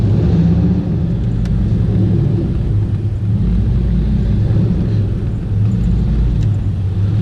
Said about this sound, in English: That's just like a little bit of a half rev there.